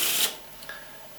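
A deck of playing cards shuffled during a card magic routine: a short burst of riffling flutter, close and fairly loud, fading into quiet handling with no talk.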